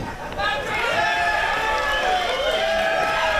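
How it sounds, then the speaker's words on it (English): A crowd at a wrestling match reacts during the bout. A loose babble of voices and shouts rises and falls, close and continuous, with no clear applause. "Hearing it from the crowd."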